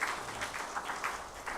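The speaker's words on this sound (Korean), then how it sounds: "은혜로운 찬양해 주신 성가대원들에게 다시 한번 감사의 박수 하겠습니다." A church congregation applauds the choir after a hymn at a Sunday service, faint, soft clapping with a light, uneven pulse that runs steadily through the moment.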